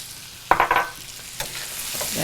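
Onions and mushrooms being sautéed and stirred in a pan, with a burst of scraping and sizzling clatter followed by a softer stir over a steady low frying hiss.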